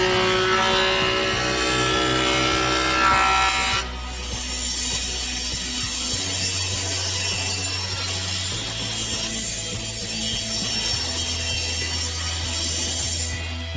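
Wooden boards being sawn to final size in a workshop making wooden steps, a loud continuous rasping cut that shifts in pitch and intensity partway through, with no talk.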